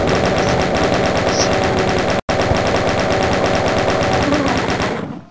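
A Gatling gun firing rapidly in the video game DOOM, a loud, continuous mechanical rattle of shots with one brief dropout that winds down at the end.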